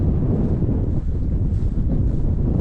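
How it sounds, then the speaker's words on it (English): Strong breeze buffeting the microphone on a hill walk near Ingleborough, a loud, continuous low rumble of wind with no voices. "There really is a fair breeze out today, you can probably hear it"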